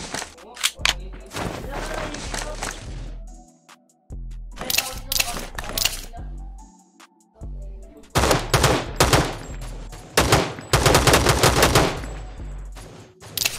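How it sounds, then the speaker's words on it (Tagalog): A PP-19 submachine gun fires repeated rapid bursts in Rules of Survival gameplay, loud and close, with short pauses between volleys and heavier clusters of shots toward the end, while a player talks over it. "Pangit i-burst yung bagong baril"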